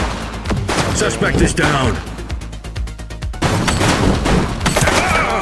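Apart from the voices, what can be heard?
gunfire in the Precinct video game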